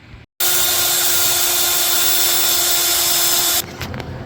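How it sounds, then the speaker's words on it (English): A power drill makes holes in a shortened drive shaft for a Berkeley car, whirring loudly and continuously for about three seconds after a brief pause, then winds down into quieter clatter. "I'm going to just use this as a drill guide, make 4 new holes"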